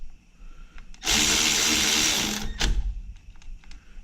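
A power tool tightens the top brake caliper bracket bolt on a Dodge Durango R/T. It gives a loud, steady whirring burst of about a second and a half, followed by a short second zip and faint clicks of work in the shop.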